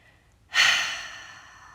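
One long, slow, close exhale during a meditation breathing exercise, rising suddenly from quiet and fading gradually, heard alone without speech.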